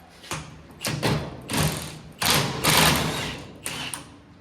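Impact or ratchet tool removing the pinion nut from a GM 12 bolt differential on a 1967 Camaro, with several loud, close bursts of hammering mechanical rattle separated by short pauses.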